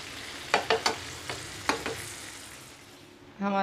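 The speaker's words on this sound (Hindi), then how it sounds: "अब हमारे कबाब जो है ब्राउन होना शुरू हो गए हैं।" Mutton kebabs fry in a pan with a soft, steady sizzle, punctuated by several quick clinks and scrapes of a utensil turning them.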